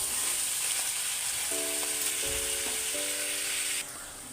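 Chopped onions frying for a Kerala-style crab curry give off a steady, close sizzle that fills the whole stretch alone, with a few faint tonal clinks midway and the hiss dropping slightly near the end.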